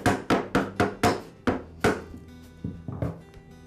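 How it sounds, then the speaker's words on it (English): A spool tapped onto the nut of a Ryobi hedge trimmer drive shaft, a run of about eight sharp ringing hammer-like knocks close up, then a few lighter taps. "I'll tap the spool onto the nut."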